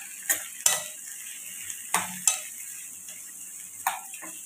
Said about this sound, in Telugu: ఇవి మగ్గేంత వరకు కలుపుకోవాలి.